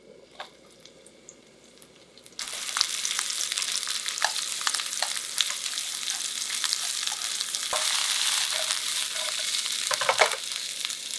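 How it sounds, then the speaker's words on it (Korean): Onions stir-frying in hot oil in a pan for pork belly sukiyaki, starting quiet then bursting into a loud, steady sizzle with scattered scraping stir strokes, close and without talk. "팬에 오일을 두르고 양파 먼저 볶아준다"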